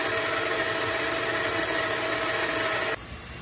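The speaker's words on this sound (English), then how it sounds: "I'm going to grind all the ingredients of this plate." An electric grinder runs loud and steady, grinding spice ingredients into a paste for a split urad lentil dish (daal maash), then drops to a quieter hum just before the end.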